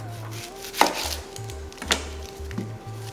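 A knife cuts the bottom off an onion on a cutting board, giving two or three sharp, close taps against the board amid quiet.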